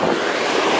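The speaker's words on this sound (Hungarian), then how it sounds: "vigyázni kell a hullámmal" Ocean waves wash onto a sandy beach in a steady, loud roar of surf, with wind buffeting the microphone throughout and no pause in the churning water.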